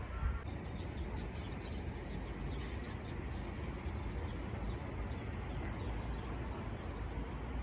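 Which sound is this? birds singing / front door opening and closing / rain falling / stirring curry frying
birds singing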